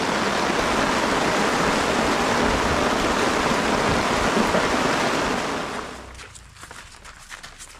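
Rain pours steadily at a campsite beside a stream, a loud, dense hiss close by, then quickly tapers off in the last couple of seconds to scattered drips.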